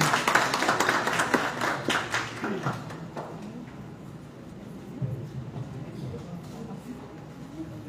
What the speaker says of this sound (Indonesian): Kita beri tepuk tangan bersama-sama.